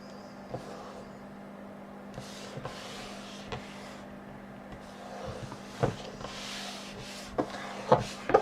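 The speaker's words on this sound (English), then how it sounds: "Burnish that down really well" Paper glued onto a handmade folio is burnished down with a tool, giving faint scattered rubbing strokes and light taps over a quiet room hum, with a couple of sharper knocks near the end.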